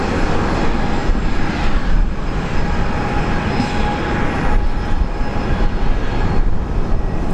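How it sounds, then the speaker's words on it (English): An airliner's jet engines roar steadily and loudly on takeoff from runway 19 left at Brisbane International Airport, a continuous broadband rumble at close range through the whole stretch. "19 left, quick takeoff."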